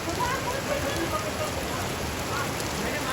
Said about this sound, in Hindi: क्या बारिश है और क्या मौसम है